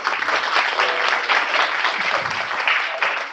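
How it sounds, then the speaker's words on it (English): An audience at a community night breaks into applause, a dense, steady burst of clapping from many hands, close and full for about three seconds before tapering slightly. "round of applause"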